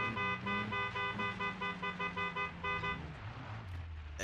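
A car horn sounds in a rapid series of short honks for about three seconds on a dusty road, close and insistent, then stops and leaves low engine and road noise.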